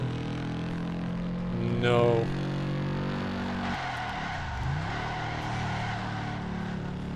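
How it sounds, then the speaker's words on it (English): A revving car engine in the racing video game Ford Racing 3 rises in pitch through gear changes, then drops and growls, with tire screeches and a brief spoken word. "Listen to the engine. Like, it sounds like an actual car."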